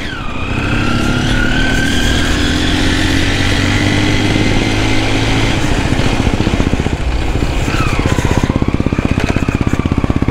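A motorcycle engine runs continuously and loudly up close, holding a steady throbbing drone, then its pitch dips and climbs again as the revs change near the end.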